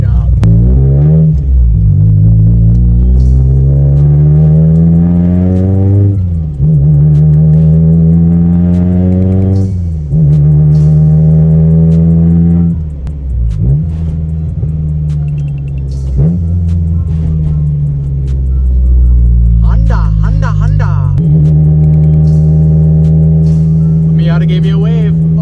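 Honda DC2 project car with new bucket seats, engine loud and close as it accelerates through the gears and rises in pitch, then eases off through turns, with a voice talking over it throughout.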